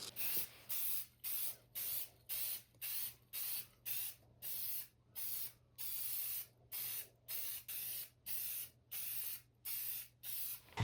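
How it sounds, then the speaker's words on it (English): Matte black spray paint hisses from an aerosol can in about twenty short, evenly spaced bursts, each a second or less, with quiet gaps between, close and fairly faint, and no voices. "we're going to spray paint it with some matte black spray paint"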